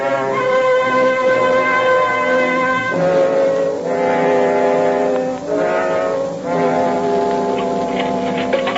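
A boat train sound effect in an old radio drama, with a deep blaring horn-like tone sounding in long sustained blasts over a continuous rumble, loud and close.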